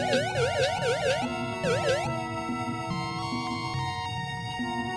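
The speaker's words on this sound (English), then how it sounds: "Every time you push the jump button to get some elevation underwater, it makes that awful noise." A game sound effect of quick warbling electronic bleeps for an underwater jump in World of Illusion, sweeping up and down several times in a row, over steady background game music.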